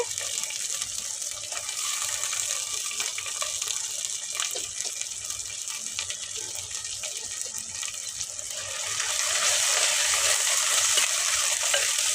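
Goat intestine curry fries in ginger garlic paste with a continuous close sizzle and stirring scrapes, and the sizzle grows louder and brighter near the end.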